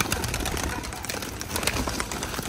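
Pigeons set free from a box, with loud rustling flaps and soft cooing close by as the birds scramble out, a dense, busy flurry lasting a few seconds.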